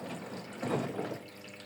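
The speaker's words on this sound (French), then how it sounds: "je vais remettre de l'eau" Water pours in a steady, close splashing stream for a laundry soap test, swelling briefly in the middle of the pour before settling back, with no voices.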